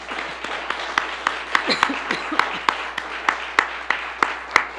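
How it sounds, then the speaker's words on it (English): Audience applause at a New York state government mental health and public safety budget announcement, a loose round of claps with distinct sharp hits standing out over softer clapping and some murmured voices. "Let's give them a round of applause."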